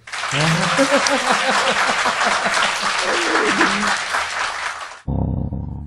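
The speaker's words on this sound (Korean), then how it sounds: "박수" An audience bursts into loud, sustained clapping that fills the room, with voices rising over it, then cuts off abruptly near the end.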